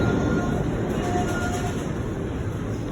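A train runs through a busy station, producing a loud, steady rumble and rolling rail noise with a faint high whine that holds for the whole stretch.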